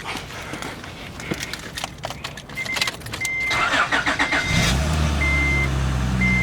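An Acura TL engine cranks briefly, then catches and settles into a steady idle rumble, with a few clicks and a faint electronic chime beforehand.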